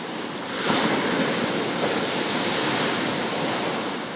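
Furious ocean waves crash and roar along the shore at Port-Bouët, a continuous loud wash of surf that swells after a moment and holds steady, with wind rushing over the microphone.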